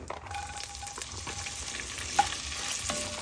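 Chopped onion hitting hot olive oil in a pan, an immediate close, steady sizzle with faint stirring clicks throughout the short stretch.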